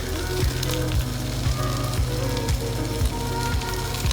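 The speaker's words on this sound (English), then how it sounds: "What we're gonna do is we're just going to cook our sausages." Sausages cooking outdoors over a camp fire in the woods, a loud, dense sizzle with spattering crackles and a low, steady rumble running under it, close and continuous.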